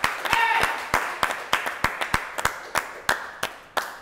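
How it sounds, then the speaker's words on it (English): An audience applauds guests on a talk show, with a burst of crowd clapping at the start that then thins into a dozen or so sharp, evenly spaced individual claps that ring out close and loud. "can we get another round of applause for our amazing guests here?"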